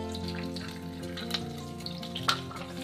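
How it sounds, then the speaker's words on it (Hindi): Green chili and garlic fry in a pan for a mix veg dish, a soft steady sizzle with a few small pops and clinks, close and fairly quiet. "और इसको हल्का सा भूनना हमें।"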